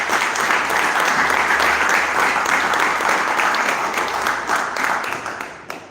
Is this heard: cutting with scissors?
no